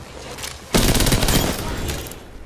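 Gunfire in Apex Legends: a loud, sustained fusillade of rapid shots erupts close up and rattles on for over a second before tapering, with a quieter din of game sounds around it.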